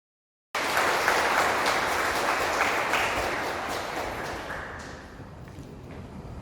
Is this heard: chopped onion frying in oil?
no